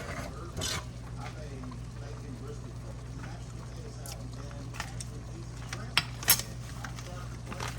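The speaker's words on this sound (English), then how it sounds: "So I'm going to stir all that in." A pot of ingredients for a Sunday dinner is stirred with a spoon, giving faint scraping and a couple of sharper clinks near the end over a constant low background hum.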